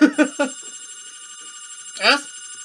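In the game Left 4 Dead 2, a telephone gives three quick, close ringing tones, and a vocal exclamation follows after a short silence.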